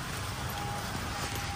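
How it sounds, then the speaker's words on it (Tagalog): A sudden heavy downpour in Capiz, Philippines, heard as a steady, dense wash of rain hiss with no breaks and no voices. "Lakas kasi ng ulan. Biglang umulan guys."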